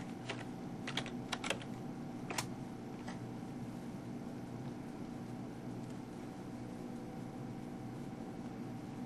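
A password is typed on a computer keyboard in a short burst of a few quiet, close key clicks near the start, followed by a low steady room hum with no further keystrokes.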